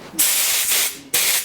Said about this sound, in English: we're just going to spray a little bit of lube through